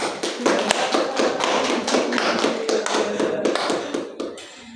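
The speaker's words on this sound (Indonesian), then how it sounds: "Berikan aplaus kepada" A group in an Islamic religious education (PAI) classroom claps in a dense, continuous burst of applause that holds steady for several seconds, then thins out toward the end.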